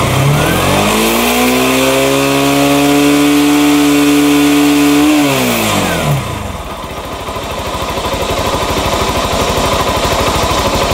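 Rouser NS 160 motorcycle engine revving up during a charging test: a steady high rev that holds for about five seconds, then drops back to a rough, loud idle. Nearby and with no talking.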